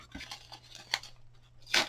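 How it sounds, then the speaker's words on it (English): Pages being torn from a tiny book for a spring garden art journal, with a few short rips and crinkles ending in one louder, longer tear, close and alone. "I'm going to rip this apart."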